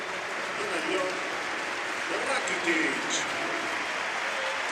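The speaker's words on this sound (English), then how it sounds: "Applause for both the Croatian and Aleñá." A stadium crowd at a Barcelona versus Mallorca football match gives generous applause for substituted players, a broad, distant wash of clapping heard under a commentator's voice.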